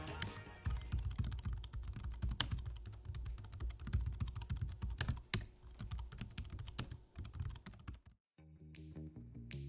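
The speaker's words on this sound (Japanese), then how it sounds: "実際のタイピング音はこんな感じ。" Rapid typing on a heavy, sturdy mobile keyboard for iPad, with dense clicky keystrokes in a continuous run, close and clear, ending abruptly before a short quieter stretch.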